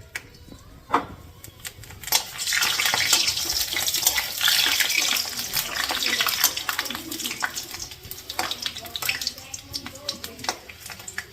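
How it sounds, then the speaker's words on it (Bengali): Papads fry in hot oil in a kadai (wok), giving a steady, dense crackling hiss that swells after the first couple of seconds and keeps going, with sharp pops and clicks scattered throughout. "তো এই যে দেখো পাপড়গুলি ভাজা নিলাম।"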